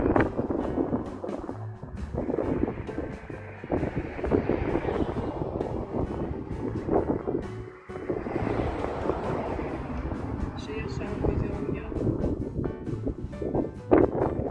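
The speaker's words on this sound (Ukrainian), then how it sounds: "Я вибачаюсь за вітер" Strong wind rushes and buffets the microphone in uneven gusts on Mount Carmel overlooking the port of Haifa, a loud rumbling roar that swells and dips throughout.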